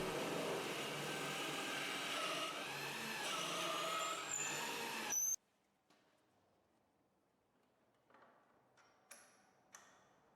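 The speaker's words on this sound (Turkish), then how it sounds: "kuyruğun geçmesi için matkapla delik açıyorum" A power drill whirs loudly through a wooden puukko knife handle for about five seconds, boring the tang hole, then cuts off, leaving near silence broken by a few faint clicks.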